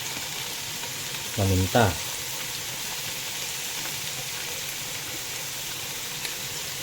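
Shrimp sizzles and fries while being stirred in a pan for ginataang santol, a steady close hiss throughout with a brief louder burst of stirring early on, and a single spoken word over the cooking.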